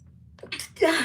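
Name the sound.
sneeze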